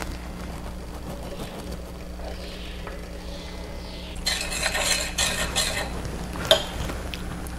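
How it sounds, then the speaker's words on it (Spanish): A homemade face mask of cacao husk flour is stirred in a bowl, soft scraping at first, then a louder run of clinking, rubbing utensil strokes with one sharp tap near the end; nobody speaks. "Seguimos mezclando."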